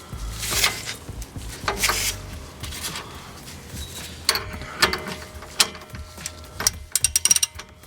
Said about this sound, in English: Put your little tool on, or just your wrench, whatever it is you use.